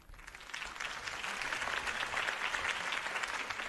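Crowd applause and faint cheering in the video game Batman: The Telltale Series swell up and hold steady, with a low hum underneath, a moderately distant wash of clapping.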